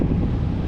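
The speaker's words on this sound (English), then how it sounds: "it's still windy" Wind blowing outdoors beside a retention pond on a cool day gives a steady low rumble, with buffeting against the microphone for a brief moment and no other sound.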